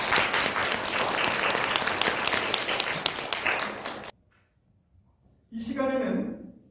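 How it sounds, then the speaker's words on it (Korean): Warm applause welcoming a visitor at a Sunday church service, about four seconds of full, even clapping that stops abruptly, a short hush, then a voice begins speaking. "박수로 환영하겠습니다."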